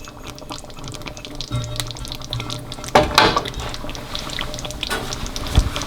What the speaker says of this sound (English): And then pour the rest of the cream, the 2 tablespoons of cream that was there.